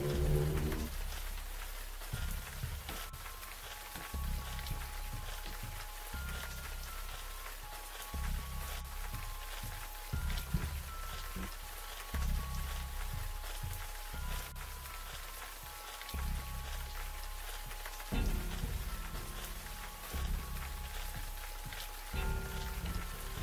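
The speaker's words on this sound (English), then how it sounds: "The rain is fucking the whole shit up." Steady rain falling in the horror video game Siren Head, a dense constant patter and hiss with low rumbling underneath throughout, no talking.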